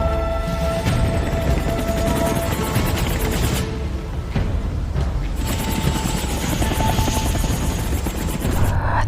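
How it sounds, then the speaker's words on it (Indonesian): A helicopter flies off at close range, its dense, continuous rotor chop and engine roar filling the scene with a broad, steady wash of noise, briefly thinning in the middle before surging back. "sebelum helikopter yang menjemput Montenegro pergi jauh"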